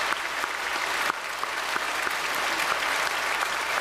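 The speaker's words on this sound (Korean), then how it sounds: "우리 박수로 축복하겠습니다." A church congregation applauds at a special early-morning service, with dense, loud, sustained clapping filling the whole stretch.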